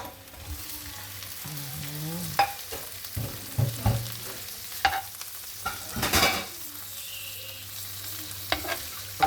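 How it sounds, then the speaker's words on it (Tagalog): Shrimp and garlic frying in a pan for a coconut milk dish, with a steady sizzle broken by the scrape and clatter of a utensil stirring, loud and close with no talking. "Ilagay na natin yung ating hipon."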